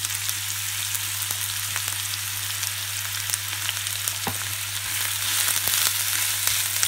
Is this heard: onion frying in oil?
yes